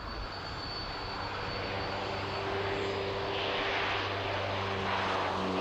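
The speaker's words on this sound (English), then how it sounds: "here's the Hawkeye caught by our cameras on departure day" A Hawkeye twin-turboprop aircraft departs from the RIAT air show, its propeller engines droning loud and steady with a rising whine, near and continuous with no voices.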